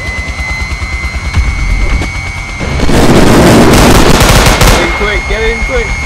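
Turret machine gun firing in the survival game Unturned during a Black Hawk raid, a loud dense burst of rapid gunfire lasting a couple of seconds amid game noise, with excited voices around it.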